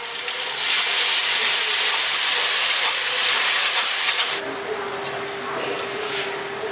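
Ginger garlic paste hits dark brown fried onions in hot oil for beef pulao, giving a loud, continuous steamy hiss and sizzle that eases slightly partway through.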